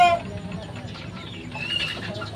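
Chickens kept on a Filipino backyard farm cluck softly nearby, a few scattered calls over a low background as someone speaks.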